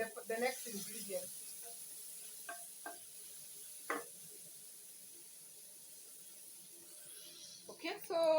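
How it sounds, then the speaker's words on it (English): Onions stirred and frying in a pan for butter chicken, with soft intermittent scrapes and light sizzle under a quiet background, a few sharper clinks near the start and end. "So I'll keep stirring until they are translucent"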